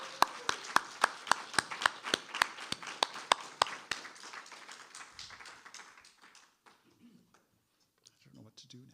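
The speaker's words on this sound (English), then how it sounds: "I feel we must provide more applause for Mike Curato." Sharp, evenly spaced claps ring out about fifteen times in a steady rhythm for Mike Curato at a faculty presentation, then loosen into scattered clapping that fades, with voices talking afterward.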